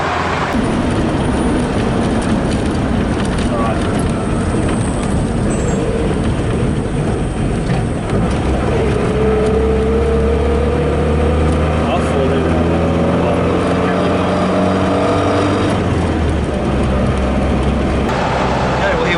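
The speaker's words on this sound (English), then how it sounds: "here we are travelling again on the highway, and it does the job. We're not the fastest vehicle on here" A Land Rover Series 3 cruising on a highway while towing a broken Defender: loud, constant engine drone and road roar from inside the cab, with a rising engine tone partway through, and talk over the noise.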